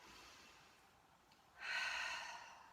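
Deep Pilates out-breath through the mouth, part of an osteoporosis exercise class: a faint low breath, then a louder, breathy exhale swelling in the second half and slowly fading, close to the mic with no talking.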